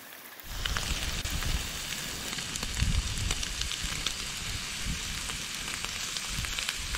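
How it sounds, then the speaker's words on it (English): A campfire of soaking-wet wood on a rainy day crackles and sizzles in a dense, steady hiss with scattered sharp pops, fairly close and continuous. "Finally got a fire going on this rainy day."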